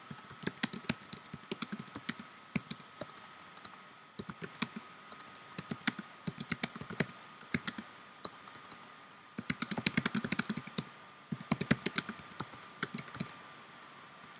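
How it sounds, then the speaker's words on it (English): Typing on a computer keyboard while composing a social media post: quick, light, close clicks in bursts separated by short pauses, no voices. "I'm going to type in what do I want to share."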